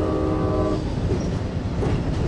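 Locomotive 8308 passes close by with a short horn blast at the start, followed by a continuous rumble and rattling of rail cars.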